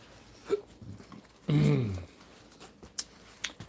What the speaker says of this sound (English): the dog's like going nuts over the fat in the pan